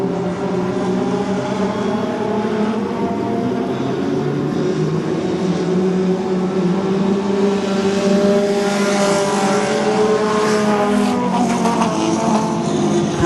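A pack of 4-cylinder dirt race cars roars around the I-55 Raceway oval, engines droning loudly and continuously with rising and falling pitch as the cars pass.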